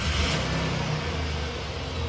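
A 2006 Jeep Commander engine runs at a steady, even idle just after start-up, a continuous low rumble with no speech over it.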